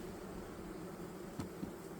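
Honey bees buzzing at an opened beehive during overwintering, a faint steady hum with a couple of brief louder passes, heard alone without talk.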